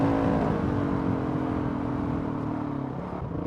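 A Honda CRF 450 RL enduro motorcycle with an aftermarket ECU, ridden in first gear, revs up with a snappy throttle, then its engine note drops and settles into a steady idle-like drone, close and loud.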